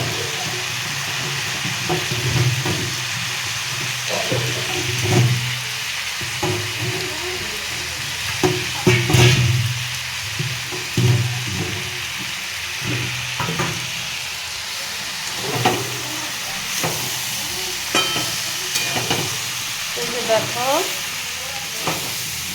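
Chowmein noodles are stirred and fried in a wok over a gas flame, with a steady sizzle broken by repeated scraping stirs and occasional clanks, close up, while a person talks at intervals.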